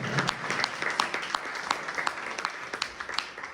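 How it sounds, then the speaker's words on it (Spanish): Congregation applause at a Sunday church sermon, a dense steady patter of many hands clapping with scattered sharper claps, moderately loud throughout. "Si es para Jesús, den un fuerte aplauso"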